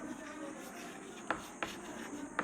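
Marker or chalk strokes on a classroom board, a soft continuous scratching punctuated by three sharp taps, quiet and close, with no one talking.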